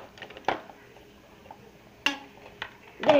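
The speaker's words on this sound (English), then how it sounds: "So, let's bop it, twist it," A McDonald's Hasbro gaming Bop It toy being handled, giving a few sharp plastic clicks and clatters at irregular intervals, close and moderately loud.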